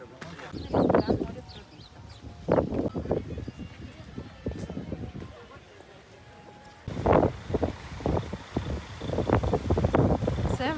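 Gusty December wind by the sea buffets the microphone in strong, uneven bursts, with people talking underneath the rumble.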